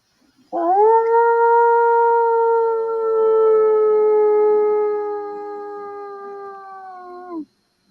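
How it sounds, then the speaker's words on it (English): An alleged Bigfoot vocalization used in call blasting: a single long, loud, sustained howl that rises sharply, holds a steady harmonic tone for about seven seconds, then drops off abruptly, heard alone with no talk. "Bigfoot searchers make alleged Bigfoot vocalizations in a practice known as call blasting"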